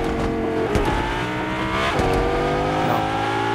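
A car in a video game drives with a steady, loud engine drone, its pitch rising and falling as it revs, with brief bumps and screeches along the way.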